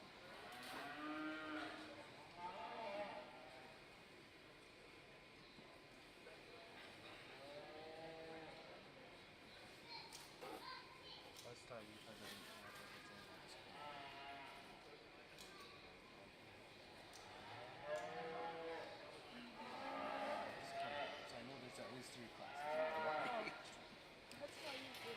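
Shorthorn heifers moo repeatedly in a show ring, the calls rising and falling at moderate distance amid crowd murmur and a voice talking over an announcer's PA.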